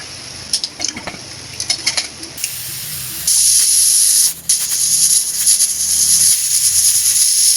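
Steam hisses loudly from a pressure cooker whistle while moth beans (matki) cook with water and salt, a steady rushing jet after a few earlier short bursts, close and alone with no talk.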